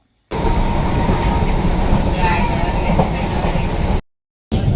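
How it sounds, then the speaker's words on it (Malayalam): A loud Pune–Lonavala local train rumbles steadily close by as it arrives at a station, with rolling wheel noise and a faint squeal, then cuts off abruptly before resuming briefly. "അതാ ട്രെയിൻ വന്നു. പൂനെ ലോനാവാല ലോക്കൽ."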